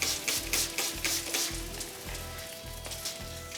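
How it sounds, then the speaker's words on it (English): A spray bottle mists apple cider vinegar and apple juice onto an Iberico pork collar on a smoker, giving a quick series of sharp, evenly spaced hissing spritzes close up with no talk. "So I'm going to spritz it. This is a mix of apple cider vinegar and apple juice."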